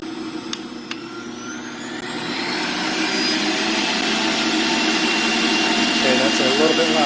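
A Breville 800JEXL centrifugal juicer spins at high speed, its motor whine ramping up after about two seconds into a steady, loud, airy hum like a hair dryer that holds to the end.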